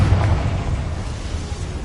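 A Confringo fire spell explodes in the video game Hogwarts Legacy, giving a loud, deep, rumbling blast that fills the short moment without a break.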